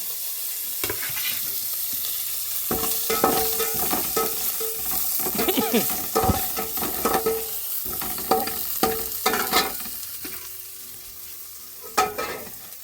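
Grated coconut, carrot, green chili and curry leaves sauté in a pan, with a steady close sizzle overlaid by frequent, rhythmic spatula scrapes and clinks throughout, and no talking.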